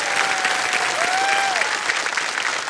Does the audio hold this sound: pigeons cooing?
no